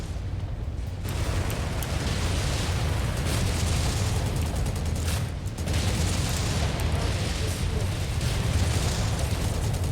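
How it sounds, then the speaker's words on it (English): In the MechWarrior 5 video game, explosions rumble amid battle-mech combat, with a heavy, sustained low boom and continuous roar that briefly dips before swelling again. "Oh, that's an explosion."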